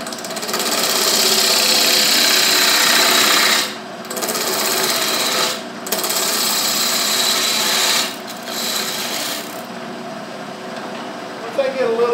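Plywood blank of a segmented potpourri box spinning on a wood lathe while a skew chisel laid on its side cuts it, a steady loud buzzing scrape with three brief pauses as the tool lifts off.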